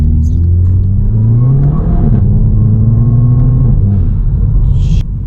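A Volkswagen Scirocco engine drones loudly from inside the moving car, its pitch rising and falling through revs over a constant road rumble, ending with a brief hiss.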